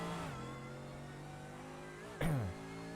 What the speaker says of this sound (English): Now listen to that big old V8 growl of this Mercedes engine.